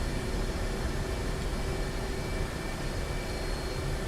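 Steady, dense aircraft engine roar inside a DCS World flight simulator cockpit during an emergency landing, a constant broadband drone with a faint steady tone, close and unbroken.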